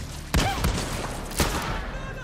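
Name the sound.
grenade explosions in the video game Far Cry 6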